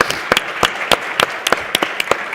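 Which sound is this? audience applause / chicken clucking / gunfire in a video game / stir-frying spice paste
audience applause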